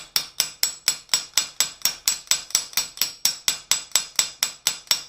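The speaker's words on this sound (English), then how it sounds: "You've got to take and do a cold set on the rivet and just be happy with the outcome there." A hammer cold-sets a rivet on a forged mason jar candle holder, about twenty sharp, evenly spaced metallic blows ringing close and loud in a steady rhythm with no talk.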